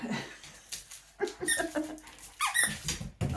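A dog chews on an inflated yoga ball, producing a run of sharp rubbery squeaks and squeals in irregular bursts, close and fairly loud, with no talking.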